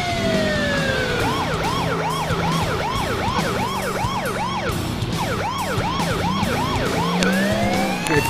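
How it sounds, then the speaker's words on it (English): A police siren on a Chevy Caprice in the video game GTA 4 whoops in rapid repeated rising-falling sweeps over traffic noise, with another siren wailing more slowly in the background. "I like this movie siren, but it's only got two tones."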